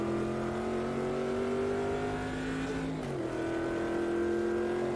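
A C3 race car in the sim-racing game Automobilista 2 drones loudly and steadily under power, its engine pitch dropping briefly midway as it shifts or lifts before climbing again.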